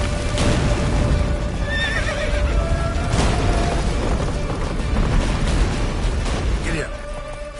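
Roach the horse in The Witcher 3 neighs and gallops amid a loud, dense battle scene with booms and bursts around it. The hoofbeats stay continuous under the clamour, with a clear whinny standing out, and some voices come through.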